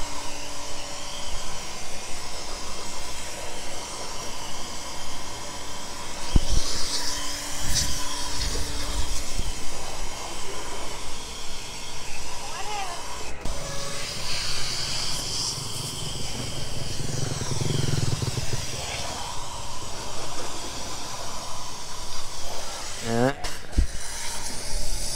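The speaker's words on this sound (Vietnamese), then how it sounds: "hôm nay tôi mang cái máy bơm ra review cho các bác thôi" A Fumak F275 pressure washer pump runs steadily while a car, a VinFast Fadil, is washed, giving a continuous mechanical whine and hiss with brief spray bursts and clatter.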